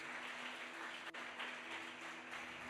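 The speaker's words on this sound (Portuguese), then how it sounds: "Vamos dar uma salva de palmas para os nossos visitantes" Congregation applauding visitors during a church service, a continuous wash of clapping that stays even and moderately distant, with a faint steady hum beneath and no voices on top.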